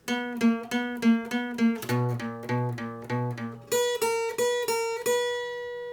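Acoustic guitar picking a steady run of octave pairs, bright plucked notes in an even rhythm, ending on a ringing higher chord.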